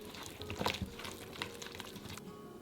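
Chicken potsticker filling being stirred with soy sauce, dark soy sauce, white pepper, sesame oil and egg, giving soft, wet squelching and tapping close up at a low, uneven level.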